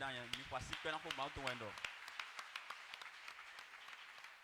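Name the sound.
congregation applauding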